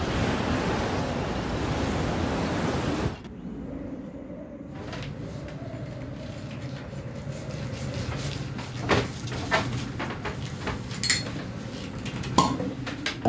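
Surf and wind at a seashore: a steady roar of breaking waves for the first three seconds, then a quieter windy backdrop with scattered close knocks and rustles.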